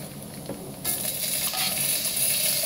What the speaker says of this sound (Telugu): చూసారు కదండి, ఇవి బాగా ఫ్రై అయిపోయినాయి